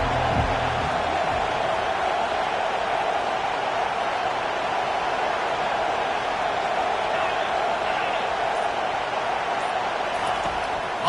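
Stadium crowd noise from an NCAA 25 college football video game, a steady roar of cheering holding at an even level throughout, with no talk over it.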